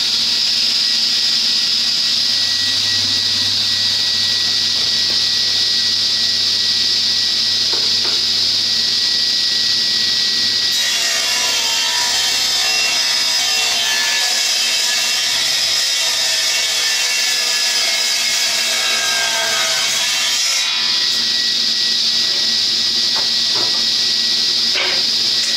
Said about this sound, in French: Attire le bouton jusqu'à ce que le moteur soit à plein régime.